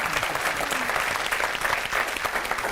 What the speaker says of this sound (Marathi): एकदा जोरदार टाळ्या तुमच्यासाठी